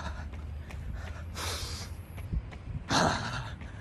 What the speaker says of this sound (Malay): Lepas tu kau tarik nafas dalam, kau lepas.